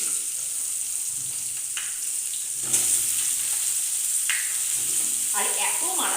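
Chopped vegetables hit a hot frying wok for a Bengali fish curry with eggplant, ridge gourd and potato, giving a steady close sizzle with a few brief scraping stirs and faint background voice.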